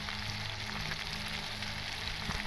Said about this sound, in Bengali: এটাকে আমি ভালো করে নাড়িয়ে নেব তেলের মধ্যে